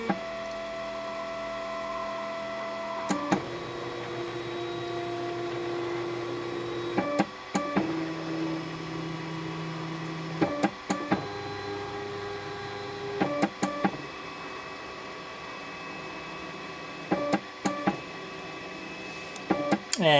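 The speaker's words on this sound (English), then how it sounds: "Level build plate again." A 3D printer auto-levels its build plate, its stepper motors whining in sustained tones that step between pitches, broken by short clicks and pauses as the nozzle probes and moves, close and steady with no talk.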